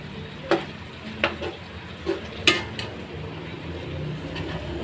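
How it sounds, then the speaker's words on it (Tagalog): Unripe jackfruit simmering in coconut milk and spices sizzles softly in a pan while a utensil stirs it, giving a few sharp scraping clacks over the steady low bubbling. "Halo-haloin."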